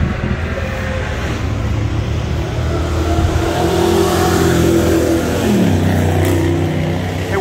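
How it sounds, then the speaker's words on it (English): A 2021 Ford F150 launching hard with its engine roaring and rising in pitch. The run is close and loud throughout, with a slight stutter from wheel hop and no speech over it. "It wheel hopped on that one."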